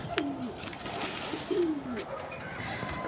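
Pigeons at a market for high-flying breeds give soft, low coos, two or three short calls among quiet background murmur and rustle.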